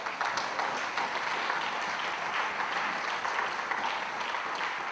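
A church congregation applauds the Lord during a sermon, a dense, sustained roar of many hands clapping together at an even level throughout.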